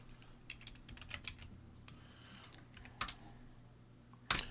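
Keys clatter on a computer keyboard in quiet bursts of quick taps, followed by a few isolated louder clicks, close and faint, with no talking.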